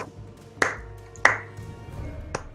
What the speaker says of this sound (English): Don't slow clap me.